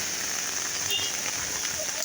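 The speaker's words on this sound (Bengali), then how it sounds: "ওরে ঝোলা ভাঙ্গা বৃষ্টি ছিল বন্ধুরা" Heavy rain with storm wind falls as a steady, dense hiss, even and continuous from start to finish, with no clear voice over it.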